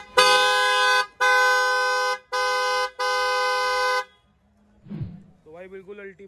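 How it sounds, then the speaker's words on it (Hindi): A loud multi-tone hydrosonic trumpet horn on a Tata Punch car blasts four times in quick succession, then a short engine rev and a brief voice follow. "इसको चेंज करके हम लोगों ने यहाँ पे हाइड्रोसोनिक का ट्रम्पेट लगा दिया"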